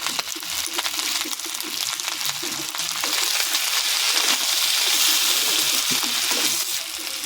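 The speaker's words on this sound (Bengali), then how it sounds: "আদা রসুন দিয়ে ভালো করে কষিয়ে নেব।" Goat tripe fries with ginger and garlic in a pan, giving a steady, dense sizzle close up that runs throughout, with occasional faint stirring taps.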